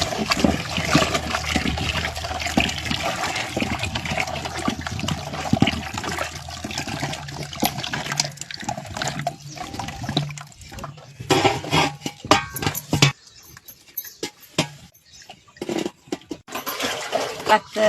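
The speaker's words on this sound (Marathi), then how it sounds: "हळू चिकवतून मी हाटून घेते" Wet wheat batter with poppy seeds, salt and soda is beaten steadily in a pot with a wooden stick, giving repeated sloshing and slapping scrapes close by that turn more sporadic near the end.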